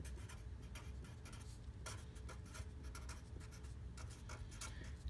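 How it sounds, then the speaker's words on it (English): Marker or chalk writing on a board during a math lesson on absolute value, a steady scratchy rubbing with short strokes running through the whole passage, fairly close and with no talk. "I'm going to write it down here again."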